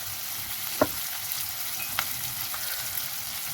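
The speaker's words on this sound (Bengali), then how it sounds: "লঙ্কাটা খুব ভাজবো না, জাস্ট একটু সটে করব" Green chilies for a spicy South Indian pickle sauté briefly in hot oil in a pan, giving a soft steady sizzle with a couple of light taps from a spatula.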